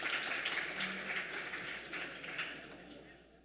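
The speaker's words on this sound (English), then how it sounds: "Okay, we could clap, clap." An audience applauds at a yeshiva award ceremony honoring a rabbi, with dense, steady clapping from many hands that carries on throughout and gradually thins and fades toward the end.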